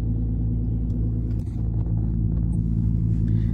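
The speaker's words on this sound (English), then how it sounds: "Look at this traffic, man. It goes all the way down there." Road traffic stretching far down the street heard as a steady low rumble of car engines, continuous and moderately loud, with faint higher noises drifting over it and no talk.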